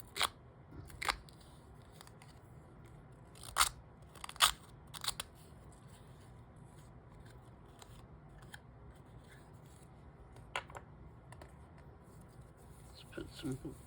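A paper distresser tool roughs up the edges of paper, giving scattered sharp crunching snips and scrapes in irregular bursts over a faint, quiet background, close to the listener.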